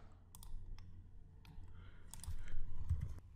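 Someone types code into Eclipse on a computer keyboard, making scattered, soft, quiet key clicks in short irregular bursts with no talking.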